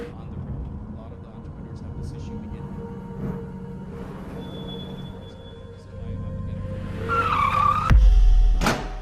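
A car's tires skid and screech in an accident sound effect within a TV advert, a rising squeal over a low rumble that ends in a sharp impact, fairly loud and up close.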